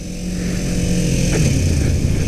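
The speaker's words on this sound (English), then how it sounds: "Sounds a bit buzzy. I don't remember the 300 making this kind of racket, and it's from the engine" A 2018 Kawasaki Ninja 400 engine buzzes steadily at mid revs, around 4,000 to 5,000 RPM, with a loud, raspy intake note that holds constant without talk.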